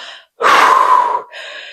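A voice imitates the loud, heavy breathing of a man working out on a stair stepper: one long, forceful, gasping breath that starts suddenly and lasts nearly a second, set between quieter breathy sounds.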